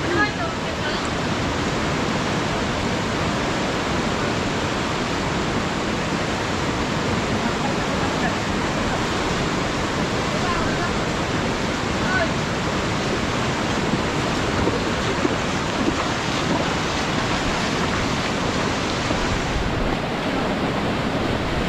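A strong river current after a typhoon, swollen with floodwater in the provinces, rushes in a loud, continuous roar of broadband water noise; occasional voices can be heard beneath the flow.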